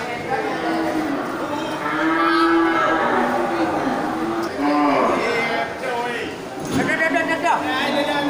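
Pregnant water buffalo close to calving at a livestock market gives several drawn-out, low moos, heard close and loud amid market noise and someone talking over it.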